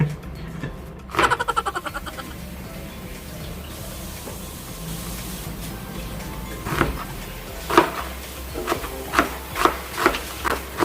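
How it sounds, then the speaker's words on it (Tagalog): A kitchen knife chopping ingredients for a Bisaya-style goat kaldereta, with a quick run of dull knocks near the start and a faster series of sharp board taps toward the end, close and fairly quiet. "So, hiwain na natin."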